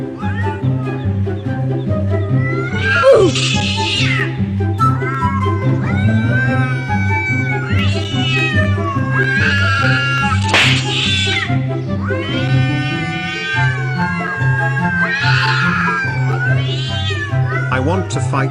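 Cats fighting and caterwauling play loudly from a device, with long wavering yowls and howls over a steady droning background, continuous throughout at close range.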